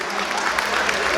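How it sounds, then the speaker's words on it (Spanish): Wedding guests in Ameyaltepec, Guerrero applaud the bride and groom, a steady close wash of clapping over a bright party din, with a voice talking in the background. "Un aplauso para el novio, un aplauso para la novia."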